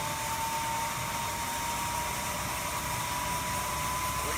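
A homemade turbo furnace spools up as a steady, loud roaring whoosh of rushing air, with a thin sustained whine running through it the whole time and no voices.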